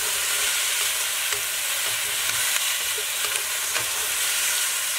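Dried chilies fry in a hot pan for braised chicken, giving a dense, even, close sizzling hiss that holds steady throughout, with no voices.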